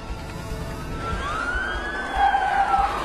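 A police car siren wails in a slow rising and falling sweep over a steady rumble of background noise, at moderate distance, as police close in around a hospital.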